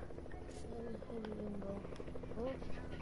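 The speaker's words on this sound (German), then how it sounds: "Da, Heli." A helicopter in a video game: a close rhythmic rotor buzz and thrum holds steady throughout, with players talking over it.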